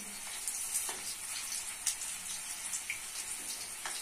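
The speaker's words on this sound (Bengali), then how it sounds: "লাল লাল করে ভেজে দিতে হবে।" Cauliflower pakora fritters deep-frying in hot oil give a steady, fairly quiet crackling sizzle with scattered small pops, heard on their own without voices.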